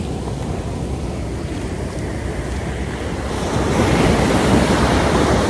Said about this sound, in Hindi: आवाज आ रही होगी आपको लहरों की